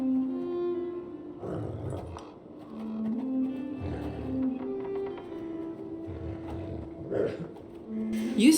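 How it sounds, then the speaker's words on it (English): A dog in the Arthurian video game Legends of the Round Table gives several low, rumbling growls in separate bursts over steady background music. "Using the rope, Arthur approaches the dog, who starts to growl."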